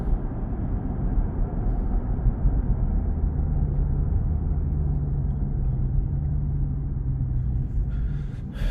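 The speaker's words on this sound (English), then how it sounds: "The car sounds good, but I want it to be a little bit louder." 2023 Chrysler 300C with the 6.4 HEMI V8 cruising at night, its exhaust a steady low droning rumble heard from inside the car, fairly quiet and even throughout with no talking.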